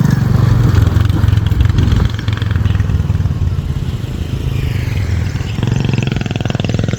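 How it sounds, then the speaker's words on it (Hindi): A motorcycle rickshaw engine chugs loudly and roughly nearby, a steady rattling drone that dips briefly and then surges again. "मोटरसाइकिल रिक्शा, ये देखें बड़ी ही गंदी इनकी आवाज़ होती है दोस्तों।"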